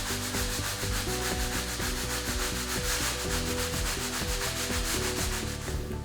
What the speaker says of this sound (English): From here, I'm gonna continue scrubbing.